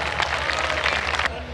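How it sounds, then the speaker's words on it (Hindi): An audience at a mushaira claps in dense, steady applause as poet Anwar Jalalpuri is welcomed to the stage, loud and continuous before cutting off abruptly. "आप हजरात से गुजारिश कर रहा हूँ कि तालियों के साथ उनका इस्तकबाल फरमाएँ"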